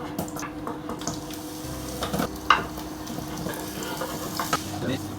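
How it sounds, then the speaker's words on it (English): Carrots and onions hit a hot pan and sizzle steadily, with scattered clinks and stirring scrapes of a utensil over a continuous frying hiss at close range, no talk. "Now we're going to pop in the carrots and onions."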